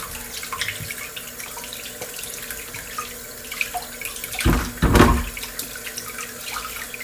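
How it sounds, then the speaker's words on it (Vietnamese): Cassava roots being washed under a running kitchen tap, a steady stream of water splashing into a sink with a louder gush of rinsing partway through, no talking. "rửa cho nó sạch luôn đó nha."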